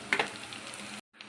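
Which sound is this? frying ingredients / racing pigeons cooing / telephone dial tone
frying ingredients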